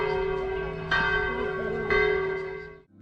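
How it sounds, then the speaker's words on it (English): Church bells in Dubrovnik ring out at six o'clock, loud and sustained with a steady resonant tone, fresh strikes landing about once a second before the ringing cuts off near the end. "Listen to the roaring sound of bells at around 6 o'clock."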